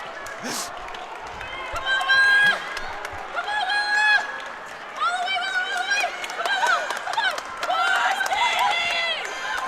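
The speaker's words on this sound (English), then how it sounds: "We got a lot of cheering going on behind us." Crowd at a track meet cheering and shouting in several loud swells, with voices rising and falling behind people talking close by.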